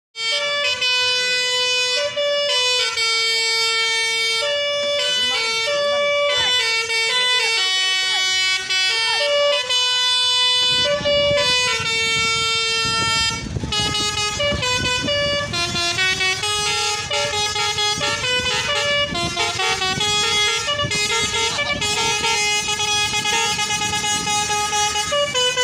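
Tunggal Jaya bus passing on an Indonesian road, sounding a loud melodic multi-tone horn that plays a tune over about 25 seconds, with engine rumble joining midway.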